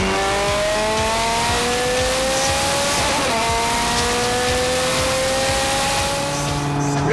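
A Ferrari Scuderia Spider 16M tuned by Novitec Rosso with a supercharged V8 drives hard, loud and close, its engine rising through repeated gear-change sweeps with a brief tyre squeal, no voices.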